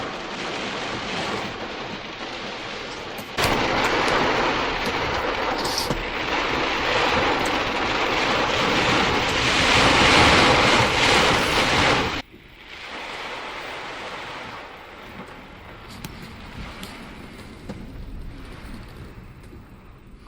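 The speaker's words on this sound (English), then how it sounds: "it comes like these gusts from the ocean" Strong ocean wind gusts roar and buffet the microphone during heavy Arctic rain, easing suddenly midway to a lower steady whoosh with faint surf underneath.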